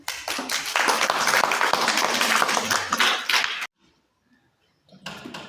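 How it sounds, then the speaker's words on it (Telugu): Audience at a school recitation event clap together loudly for about three and a half seconds, then stop abruptly; after a short silence a fresh burst of clapping begins. "అందరు క్లాప్స్ కొట్టండి."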